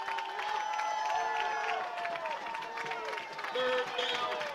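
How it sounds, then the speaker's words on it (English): High school football crowd on the Brentwood side cheering during a third-down play against Centennial, a distant swelling roar of voices and clapping beneath a commentator's continuous talk. "And the crowd's coming to life. Over here on the Brentwood side."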